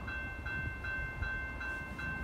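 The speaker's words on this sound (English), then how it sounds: "The next Metra train approaching your station will be a Metra Express train and will not stop." A Metra express commuter train rushes through a station in Riverside, Illinois without stopping, giving a continuous rolling rumble with a rhythmic clatter of wheels and a steady high tone, moderately loud and heard alone.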